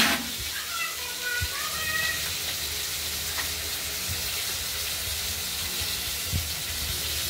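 Tomato pieces and potatoes fry in a pan during a Bengali catla fish recipe. The sizzle is steady and close, with occasional stirring knocks, and it runs alone with no voices.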